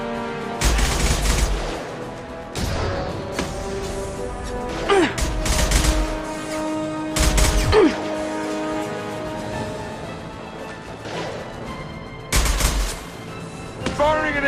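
Gunfire and an impact shot from the Mass Effect 2 video game: loud, repeated bursts of shots and heavy booming impacts, each followed by a ringing tail over a steady game soundtrack, with a voice speaking between bursts.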